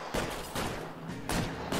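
Gunfire from a shooter in the video game LA Noire comes as four loud, close bursts of shots about every half second, each with a rough decaying tail.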